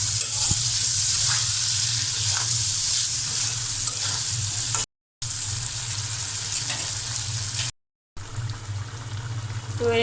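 Tomatoes sizzle in hot oil left over from frying pabda fish, a close, bright crackle with occasional stirring clicks, interrupted by two short silent gaps.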